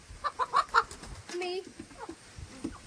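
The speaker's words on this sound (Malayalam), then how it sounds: "നമ്മളെ പറക്കുന്ന ഫാൻസി കോഴി ഗൈസ്" A fancy breed chicken clucks in quick repeated bursts up close, followed by a drawn-out squawk and softer clucks, with some faint talking nearby.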